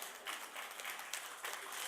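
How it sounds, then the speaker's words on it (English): Audience applause for city volunteers at a council meeting, a dense, fairly faint patter of clapping lasting the whole moment. "Can we please give them a round of applause?"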